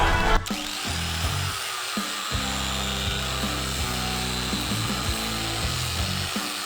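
A power tool, likely a grinder or wire wheel, strips a Jeep Cherokee XJ one-ton axle down to bare metal, a loud steady whirring drone that runs throughout with brief dips as the tool is repositioned.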